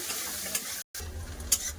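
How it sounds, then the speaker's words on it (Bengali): Onions sizzle and crackle in hot oil with cumin seeds in a home kitchen, a steady close frying hiss with stirring scrapes and a brief silent gap midway. "ভালো করে পেঁয়াজ ভেজে নেব"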